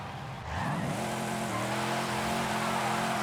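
Car spinning celebratory donuts in the Forza Horizon 5 racing game, a loud steady engine drone with rising revs and tire squeal that kicks in after a brief start and holds throughout.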